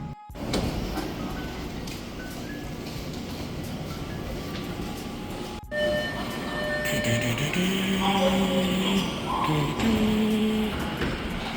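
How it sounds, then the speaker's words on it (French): Inside a moving subway car in South Korea: a continuous rumble of wheels and motor, with a brief dropout and then rising whines and tonal squeals as the train runs. "Nous sommes dans le métro, parce que le prochain lieu se trouve dans le métro."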